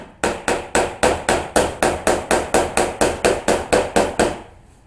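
A hammer taps on the sheet-metal body of a Subaru Justy, fifteen or so sharp, evenly spaced metallic knocks in a steady rhythm, close and loud with no talk.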